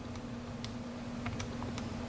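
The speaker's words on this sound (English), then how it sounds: "all I'm doing is typing the number, and then I'm hitting the enter key after every number" Keys pressed on a calculator keypad, a handful of soft, sparse clicks at irregular intervals over a steady low electrical hum.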